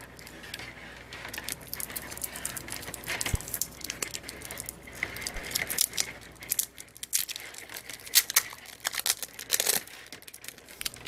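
Packing tape torn and peeled off a package: scattered crinkling, ripping and rustling bursts close by, irregular and fairly quiet, with brief sharp clicks among them; no talking.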